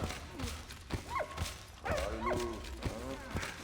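A dog in the video game Valiant Hearts: The Great War gives several short, high yips and barks at moderate volume over a busy game soundscape with thumps and footsteps.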